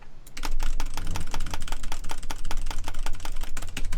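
Rapid, continuous clacking of computer keys, fast bursts of typing close up with no pauses.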